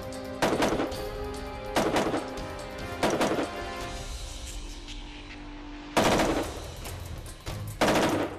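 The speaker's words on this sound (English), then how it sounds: "The SIG516 can fire mixed ammunition consistently and accurately thanks to its multiple gas valve settings." A SIG Sauer SIG516 rifle with a short-stroke pushrod gas system fires during a torture test, giving about six loud, close shots spaced roughly a second apart, each followed by a ringing tail.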